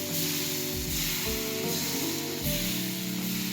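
Hand-dropped pitha batter sizzles loudly in a refined-oil-greased pan as several portions are let go in quick succession, steady frying crackle throughout with no talk.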